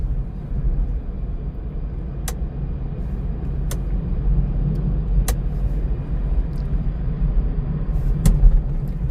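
Car driving at night along a forest road in a tiger reserve, a steady loud engine and tyre rumble throughout, with a few sharp clicks or ticks cutting through, no talk.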